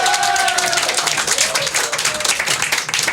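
Audience clapping and cheering at the Bouyah d'Or 2020 awards show, loud and dense with crowd noise, while voices and whistles ring out over it.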